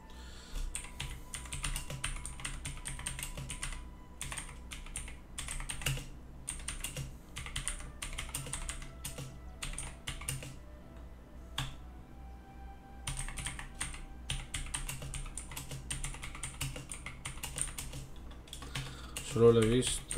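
Steady typing on a computer keyboard, with fast, close, irregular key clicks pausing briefly at times and a little faint background sound near the end.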